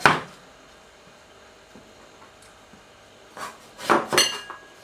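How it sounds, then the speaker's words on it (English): A knife cuts peeled ginger into small pieces on a board. After one sharp tap, a long quiet stretch follows, then a quick cluster of three close, crisp knocks near the end. "Cut the ginger into small pieces."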